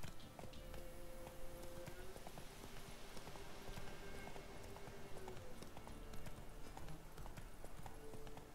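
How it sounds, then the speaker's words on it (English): Horse hooves clip-clopping at a steady gallop in The Witcher 3: Wild Hunt, a continuous rapid rhythm over game ambience and music, moderately quiet throughout. "Whoa there, Roach. Come on."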